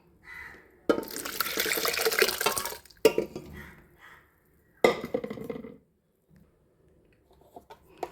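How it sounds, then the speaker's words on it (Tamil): Cooked lentils are poured into a pot of radish sambar. Three close, wet sloshing pours follow one another, with quiet gaps between them. "நம்ம பருப்பை ஊற்றிடலாம்"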